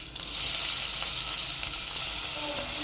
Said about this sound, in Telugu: ఆయిల్ కొంచెం హీట్ అయ్యాక 1 స్పూన్ జీరా వేసుకుందాం